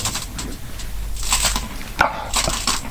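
A pet dog growls and scuffles while playfully attacking its owner indoors, with rough snarling bursts, snuffles and rustling close by.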